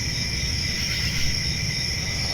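Crickets chirp in a steady, high, shimmering drone that holds unbroken at moderate loudness, with no voices and a faint low murmur beneath.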